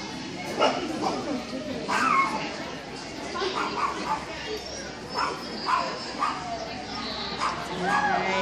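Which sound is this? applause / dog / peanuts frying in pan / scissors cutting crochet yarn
dog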